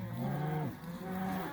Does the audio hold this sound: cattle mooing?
yes